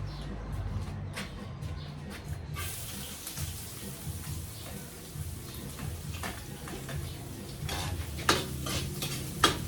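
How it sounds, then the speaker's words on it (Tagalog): Garlic, onion and ginger sauté in a pan with a continuous loud sizzle and crackle, scattered stirring clatter, and a few sharper pops near the end. "Gigisa na natin"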